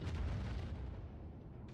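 Missiles launching in the Star Citizen space combat game, a loud continuous rumbling roar with a booming low end that holds steady for under two seconds, with no voices over it.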